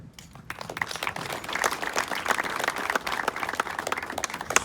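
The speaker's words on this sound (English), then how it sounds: "Far and away the best applause I've ever gotten" Audience applause at a ribbon cutting for Oasis Powersports, a dense, steady wash of many hands clapping close by for several seconds, with no talk over it.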